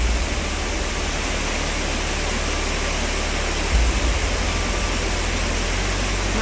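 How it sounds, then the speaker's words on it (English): Water cascades down a small waterfall in the Wood of Cree, running fairly calm after a dry week: a continuous close rush of falling water over a low rumble, with one brief swell midway. "just the way the water cascades down it"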